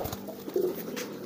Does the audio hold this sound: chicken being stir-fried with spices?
no